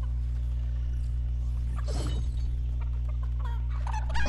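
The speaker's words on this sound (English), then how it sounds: "Lynk, chicken!" Chickens cluck in a Fortnite match, with short clucking bursts rising over a constant low game hum and a brief noisy crash partway through, ending with more clucks.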